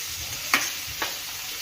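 Onion, beans and capsicum frying for pasta, a steady soft sizzle in the pan broken by two quick scraping stirs, with no talk.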